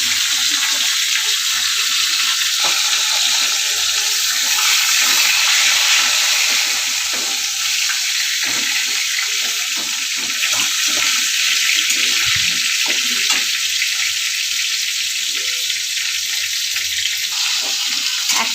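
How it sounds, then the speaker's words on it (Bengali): A fish head fries in hot oil in a wok, giving a constant bright, hissing sizzle that runs steadily throughout with no voices. "কড়াইতে তেল গরম হয়ে গেছে, আমি এতে মাছের মাথাটা ভেজে নেব।"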